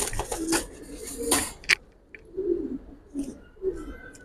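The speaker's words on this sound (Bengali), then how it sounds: "আমি আপনাকে কবুতরটা দেখাই।" Red-necked pigeons coo nearby in soft, low, repeated bursts, mixed with wing flutters and brief clicks.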